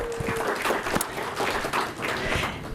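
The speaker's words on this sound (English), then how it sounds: "a round of applause for the Elks Club" Audience applause at a Beacon Historical Society meeting held in an Elks Club hall, a steady wash of clapping from many hands that holds at even loudness through the whole stretch, with no talk over it.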